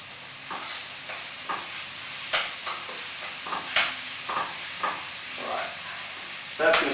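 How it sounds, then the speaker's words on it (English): Onion frying in a hot pan: a steady low sizzle with repeated sharper crackles and stirring scrapes, close and moderately loud, no talking. "pop the onion in there and start cooking that down"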